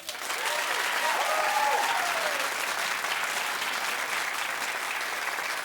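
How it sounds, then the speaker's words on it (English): A talk-show studio audience claps in a sustained, even burst of applause, with a faint cheer or whoop briefly rising above it early on. "Clap if you think Rosie would be good."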